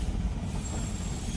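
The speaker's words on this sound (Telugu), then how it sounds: "బొగ్గు రైలు పోతుంది ఫ్రెండ్స్" A coal freight train rolls past near mining country, a steady low rumble of wagons with a faint thin wheel squeal above it, heard at moderate distance with no talk.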